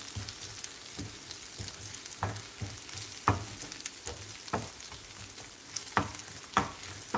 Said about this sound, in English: So I'm gonna fry this garlic and ginger with this onion a little bit.